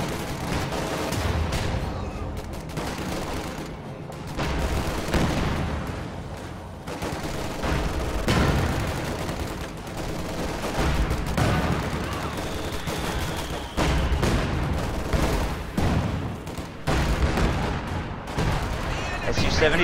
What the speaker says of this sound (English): Su-76 barrage going off gets a nice initial hit on those Grenadiers and forces a retreat from that squad